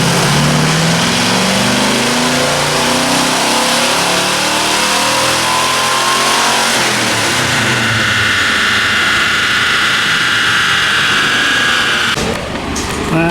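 A 502 big block Chevy engine makes a full throttle dyno pull on a DynoJet from about 1600 rpm, a loud, close roar whose pitch climbs steadily for about twelve seconds before cutting off abruptly.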